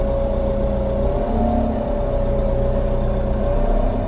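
A steady tractor engine drones and hums continuously at close range, loud and even, with a slight rise in pitch partway through; an LS Mtron self-driving smart tractor on farmland.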